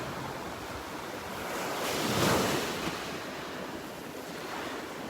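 Surf breaking on a Gulf beach at Delnor-Wiggins on a Sunday morning, a steady wash of waves with wind buffeting the microphone, swelling to a louder crash midway before settling back, with no voices.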